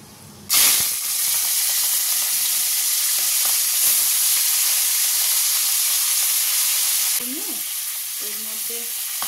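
Prawns hit hot oil with cinnamon, cloves, cardamom and a dry chilli, bursting into a sudden loud sizzle that hisses steadily up close, then settles lower near the end, with a spoon or spatula scraping briefly.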